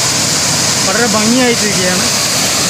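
Kalarandi waterfall in Kondotty, Malappuram, Kerala, pours as a steady, loud broadband rush of falling water that fills the whole clip, with someone speaking briefly over the roar.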